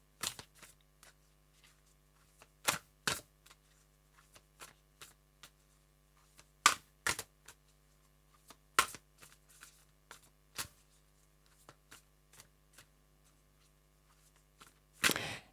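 Tarot cards being shuffled in repeated riffling bursts, close up and fairly quiet, with crisp snaps at irregular intervals and no talking.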